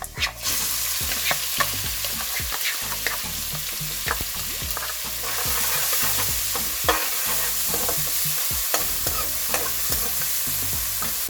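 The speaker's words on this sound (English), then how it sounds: "First thing to add in there, cumin seeds. Then finely chopped onions," Finely chopped onions with cumin seeds fry in hot oil in a pan, giving a dense, steady sizzle broken by scraping stirs from a utensil, with no talk.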